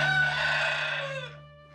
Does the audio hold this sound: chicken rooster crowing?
yes